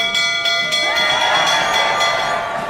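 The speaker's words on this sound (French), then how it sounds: "Sonnez la cloche, commandez votre part de tarte." A bell rung to order in a restaurant that serves oysters and tart, its ringing tone sustained and shimmering over a busy room murmur.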